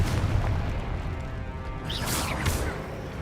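The Confringo blasting spell fires in Hogwarts Legacy, producing dense booming, crackling bursts and whooshes that run continuously and loud, with a couple of bright sharp blasts near the end.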